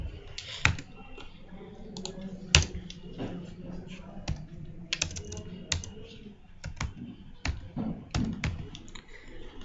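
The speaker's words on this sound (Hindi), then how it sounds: "जैसे ही आकाश अब टाइप करेंगे," Computer keyboard typing while entering a student record into school management software, irregular clicks and taps close by over a low room hum, with a couple of louder key strikes.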